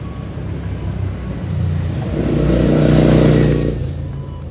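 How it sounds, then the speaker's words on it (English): A motorcycle passing along West 87th Street in Manhattan, its engine swelling from a low rumble to a loud close roar at mid-clip, then fading away over steady city traffic hum. "I hear a motorcycle."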